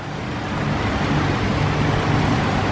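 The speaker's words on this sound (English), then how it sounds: "you got that sound of that water coming right on through and back" Water flowing through a backyard pond waterfall, a steady, loud, continuous rushing wash with no breaks and no talk.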